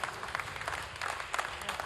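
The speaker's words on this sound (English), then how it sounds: "You hear the applause" Applause fills the Soyuz launch control room for the VS24 Falcon Eye 2 mission right after satellite separation, a steady wash of many hands clapping at moderate distance with a few louder bursts and no clear voices.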